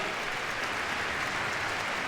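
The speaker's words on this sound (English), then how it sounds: "give them a round of applause as they're coming down the line now with 3 to go" Crowd applauding at a dog agility competition as a team comes down the line, dense even clapping that fills the whole short stretch without letup.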